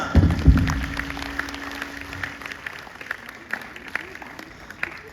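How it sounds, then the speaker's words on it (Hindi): Applause at a university convocation ceremony as a graduate's name is called, scattered clapping from the audience that fades after a loud start, with a voice at the beginning. "तालियां।"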